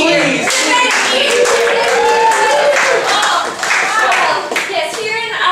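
Loud audience clapping and cheering at a holiday pageant, a dense burst of applause from a big crowd with shouts, continuing strongly for several seconds before thinning near the end.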